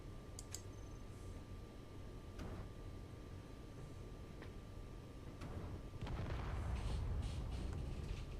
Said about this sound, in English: I heard a lot of explosions outside.